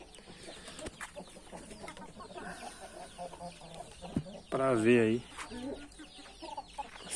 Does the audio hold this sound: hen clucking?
yes